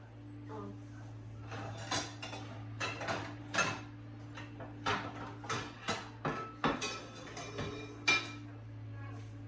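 A pan taken out and handled in a home kitchen: a string of sharp metallic clanks and knocks at irregular spacing, close and moderately loud over a steady low hum.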